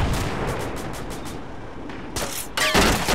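A video-game turret firing in rapid regular bursts early on, then heavier, louder blasts land near the end over a steady background rumble.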